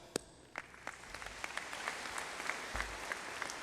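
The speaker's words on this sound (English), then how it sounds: "So let's give them a big round of applause." A crowd at a graduation ceremony claps for the graduates' families, a few sharp early claps quickly swelling into sustained, fairly loud applause that fills the hall.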